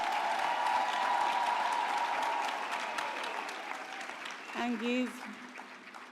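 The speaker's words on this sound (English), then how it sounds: "can you give your loved ones a big round of applause for being here?" Large graduation ceremony crowd applauding steadily in a big hall, a dense sustained wash of clapping that slowly tapers, with a voice speaking over it near the end.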